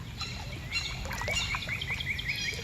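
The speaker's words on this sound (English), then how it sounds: "Hear them birds?" Birds chirp and call in short repeated notes along the New River during a paddle in light rain, set against a steady wash of water and rain patter, fairly faint and at a distance.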